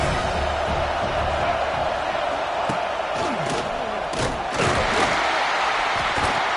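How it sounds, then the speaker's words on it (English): A stadium crowd at a football game roars continuously, a loud, broad wash of noise, while commentators talk over it. "This crowd trying to make life miserable for this offense."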